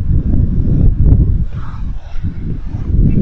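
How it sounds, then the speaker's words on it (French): Strong wind buffets the microphone on a hiking trail near the Tourris caves, giving loud, gusting low rumbles that rise and fall throughout the stretch. "même s'il y a beaucoup de vent"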